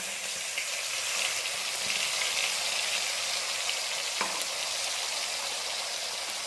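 Spice paste sizzling hard in hot oil with bay leaf, dried red chilli and whole garam masala for a mutton-fat rajma, a loud, steady, close frying hiss with a brief clink of a utensil midway.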